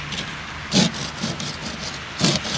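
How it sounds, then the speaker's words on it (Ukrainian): Freezing rain falling outdoors, a steady hiss of drops with two louder gusting splashes standing out against the constant patter. "На даний момент дощ іде."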